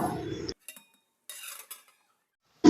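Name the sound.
covering a curry pot with its lid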